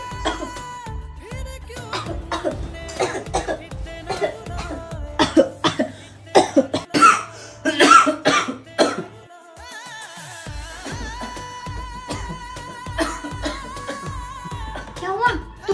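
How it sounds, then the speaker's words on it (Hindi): A woman coughs repeatedly in harsh, loud bursts at an irregular rhythm, close by, and speech and other voices are heard around the coughs. "क्या है, कब से खांस रही हो, पूरी नींद खराब कर दी।"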